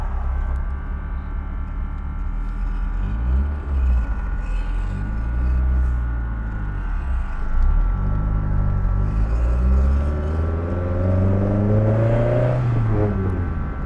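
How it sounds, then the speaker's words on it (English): A carbureted 1985 Honda Civic engine idles roughly and is blipped repeatedly, the revs rising and falling in uneven bursts, loud and close, with no talking. "It sounds pretty cool though with the carbs."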